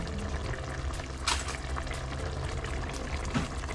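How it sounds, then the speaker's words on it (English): Water pours steadily into a pot of pork sinigang, a Filipino sour soup, giving a continuous splashing, bubbling wash throughout. "I think I will still have to add some water"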